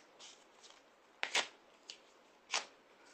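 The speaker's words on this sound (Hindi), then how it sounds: "ये मेरे निष्कासन का नोटिस जो मुझे दिया गया है, ठीक उसी तरह कैमरे के सामने फाड़ रहा हूं" A paper expulsion notice being torn up, heard as a few short, crisp ripping bursts: a faint one first, then a louder double tear and a final tear, close by in a quiet room.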